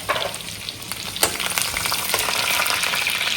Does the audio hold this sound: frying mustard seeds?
yes